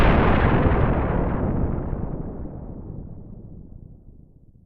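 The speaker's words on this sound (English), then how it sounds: "Oh, yeah, there's the explosion." A big cinematic explosion sound effect dropped into a podcast hits with a loud boom and a long rumbling decay that fades out over several seconds, with no voices over it.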